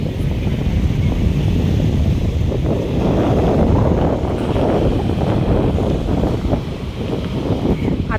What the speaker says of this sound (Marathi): आणि ते वारा पण खूप छान आहे.